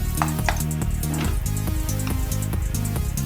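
Garlic hitting a hot pan for chicken tinola with corn, a steady close sizzle and crackle of frying that holds loud throughout, with no talking.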